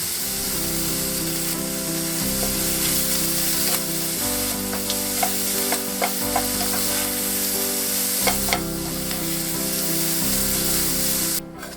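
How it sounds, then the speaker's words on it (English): Shrimp and chopped basil sautéing together in one pan for a shrimp paprikash, giving a loud continuous sizzle with a steady hum underneath and scattered crackles and utensil clicks throughout, close up and with no talking. "Saute for a minute or so until the shrimp are nice and pink and done."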